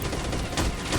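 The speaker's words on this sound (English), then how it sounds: "taking one step out of cover will get you shredded by a machine gun operated by an 18-year-old conscript" Machine gun fire in the shooter game STALKER Clear Sky: a loud, dense, continuous burst of rapid shots with heavy low rumble, filling the whole second without pause.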